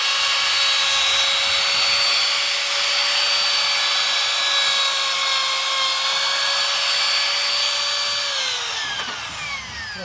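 A router with a jig grinds away old window putty in a loud, continuous high-pitched whine close by, then spins down toward the end.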